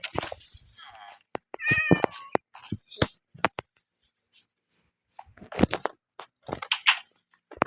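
A cat meows in a Thai playthrough of the crafting game Master Craft Unity, several short cries scattered among brief clicks and crunches while a person talks over the game.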